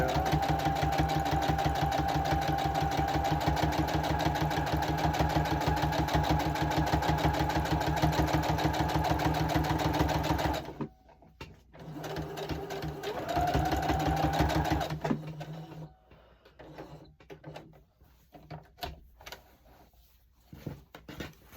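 A home sewing machine runs loud and steady for about ten seconds, then stitches in shorter bursts with pauses and some quiet handling sounds.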